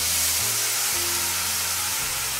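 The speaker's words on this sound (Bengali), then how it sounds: "এরপর এর মধ্যে আমরা টমেটোটা দিয়ে দেবো।" Tomatoes dropped into a hot pan for tomato-date and mixed dried fruit chutney give a steady, close hiss of sizzling that fills the whole stretch, loudest at the start and easing only slightly.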